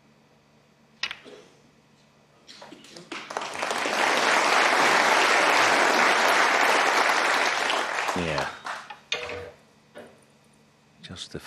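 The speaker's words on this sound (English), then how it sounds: "Justifiable round of applause. That was a terrific pot." A snooker crowd at the Tour Championship 2024 match between Mark Allen and John Higgins breaks into applause for a pot, a loud burst lasting several seconds between quiet clicks, with a brief word spoken.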